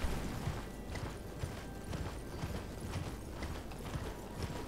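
Torrent, the spectral horse steed in Elden Ring, trots with steady, rhythmic clip-clop hoofbeats at moderate volume over a soft ambient bed.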